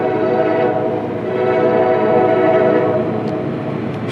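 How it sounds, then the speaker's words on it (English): Ethanol freight train on a CSX line rumbling past loud and near, a steady continuous roar of rolling cars with no speech. "That's a different one. That's an ethanol train."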